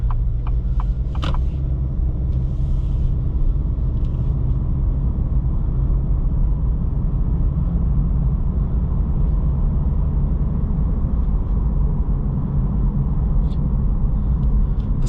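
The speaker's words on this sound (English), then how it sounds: "the 4-cylinder hums along in the background very nicely" Inside a 2023 Acura Integra A-Spec on the road, the four-cylinder engine with CVT hums as a low, steady drone under broad road rumble, with no talk and only a few faint ticks and clicks.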